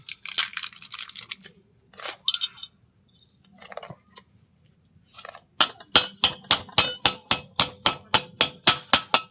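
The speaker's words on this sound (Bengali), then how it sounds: "এই দেখো আমরা আবার এই নতুন বিয়ারিং আবার ফিটিং করে দেবো।" Metal parts of a ceiling fan being worked on during fitting of a new bearing: scattered clinks and scrapes, then a fast series of sharp, close hammer taps driving the tight bearing into place, with no voices.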